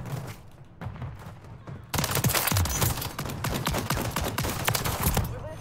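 Rapid automatic gunfire in Call of Duty: Modern Warfare 3, with dense bursts from an MTZ 556 rifle erupting after a quieter opening and rattling on loudly in sharp, rapid cracks.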